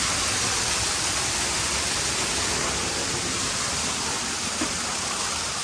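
Steady rush of shower water running continuously, close and loud, with no voices.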